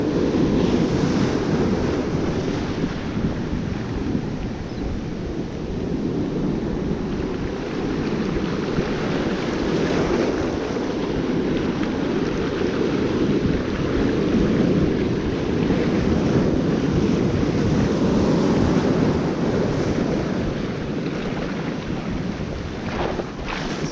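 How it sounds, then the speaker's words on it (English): Big ocean swells wash and roar steadily along a shoreline where anglers cast for garrick, mixed with heavy wind buffeting the microphone, continuous and close with no voices. "Swells are quite big today"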